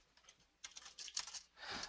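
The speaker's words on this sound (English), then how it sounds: "I'm typing some answers." Fingers typing on a computer keyboard, quiet and close, with a few scattered key taps and then several quick bursts of clicking in an irregular rhythm, no voices.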